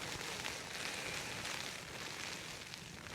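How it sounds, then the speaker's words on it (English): Heavy, persistent rain falls steadily during a UK winter camping trip, a dense, even hiss with no break across the few seconds, heard alone. "This rain has been coming down now"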